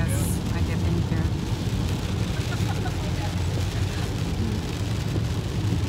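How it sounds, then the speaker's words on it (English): Rain falls steadily on a taxi driving through Berlin, heard from inside as a dense, constant wash over low road and engine rumble. "It's raining here."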